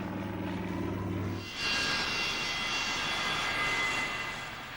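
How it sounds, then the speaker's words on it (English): A Douglas DC-3 propeller airliner in passenger service between Boston and Cape Cod, its engines rising sharply from a low steady drone to a loud, broad roar that holds strong before easing slightly at the end. "the DC-3 is working still, here carrying passengers between Boston and Cape Cod"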